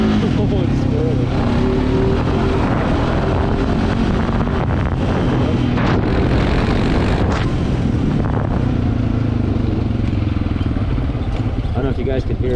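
Honda 420 ATV engine running steadily up close as the machine pulls across grass, its droning note briefly stumbling and dipping, under wind buffeting on the microphone with someone talking over it.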